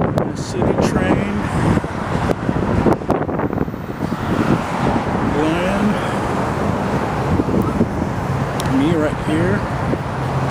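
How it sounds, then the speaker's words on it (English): City traffic on a South Michigan Avenue street in Chicago, with cars rumbling past and gusts of wind buffeting the microphone, while someone talks over the continuous roadway noise. "This is the view of Chicago, the traffic, the city train."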